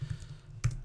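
Keyboard keys typed on a computer while saving a layout in Bible study software, a few light clicks with one sharper keystroke near the end, close and quiet.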